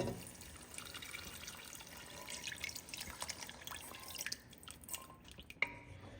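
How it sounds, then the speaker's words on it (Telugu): Tamarind juice pouring into a boiling Nellore-style fish curry: a soft, steady trickle of liquid with scattered drips, close and fairly quiet, no talking. "ఇప్పుడు మనము పులుసు యాడ్ చేసేసుకుందాము"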